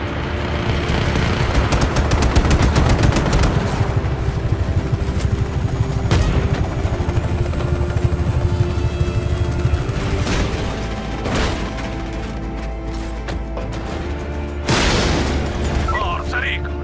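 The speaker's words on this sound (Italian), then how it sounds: "Ehi, elicotteri, attenzione!" In the video game Just Cause 3, dense gunfire, booming explosions and helicopter rumble fill the scene continuously, with a heavy low-end roar and sharp bursts throughout while a character shouts a warning.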